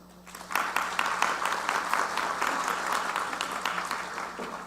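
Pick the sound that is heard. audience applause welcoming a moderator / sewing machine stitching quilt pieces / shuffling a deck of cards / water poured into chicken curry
audience applause welcoming a moderator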